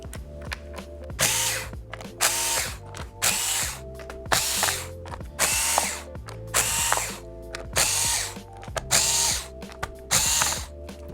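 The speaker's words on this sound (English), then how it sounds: "you can start the replacement by loosening up all of the screws in the bottom cover" Small screws on the bottom cover of a Lenovo 100E G3 Chromebook being loosened with a ratcheting driver, about nine short bursts of clicking and whirring, close and clear with brief pauses between.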